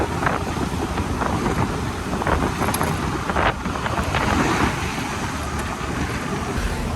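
Steady, loud wind buffeting while riding a motorbike into the town of Demak, Indonesia, a continuous broadband roar with no clear talk.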